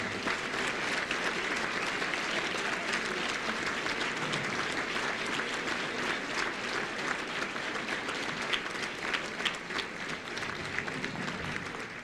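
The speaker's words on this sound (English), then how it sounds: "Let's give them all a nice round of applause." Sustained applause from an audience at a 1995 football award ceremony, dense steady clapping that continues for about twelve seconds at moderate distance.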